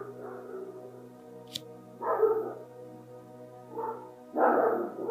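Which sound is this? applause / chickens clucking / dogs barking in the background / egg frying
dogs barking in the background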